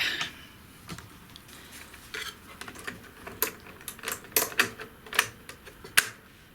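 Cassette tape loaded into a faulty Sony ZS-D5 boombox, a series of close, sharp plastic clicks and clacks, scattered at first and quickening toward the end, with a faint background hiss.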